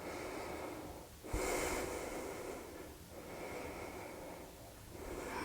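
Slow, deep nasal breaths during a yoga session, soft and close, with a sharp snort-like exhale followed by several quieter breathing cycles.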